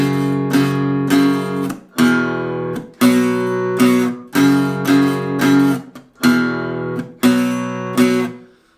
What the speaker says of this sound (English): after each chorus, we have this little break that's played by the guitars